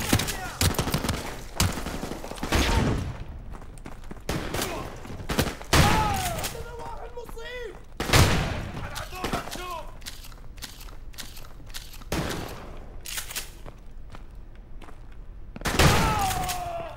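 Gunfire in the PC game Call of Duty: Modern Warfare Remastered, with repeated loud bursts of shots and booms among footsteps and other game sounds, with voices talking at times.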